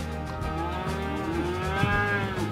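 Cattle low steadily on a rugged Arizona desert ranch, a long sustained moo with wavering pitch holding for a couple of seconds, close and clear with no talking.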